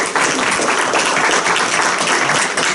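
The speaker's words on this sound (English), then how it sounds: "I want to join in applauding them for helping the citizens of Batesburg-Leesville out" A roomful of people applauds steadily at a town council meeting in Batesburg-Leesville, a dense, even wash of clapping that holds at full strength from start to finish with no talking over it.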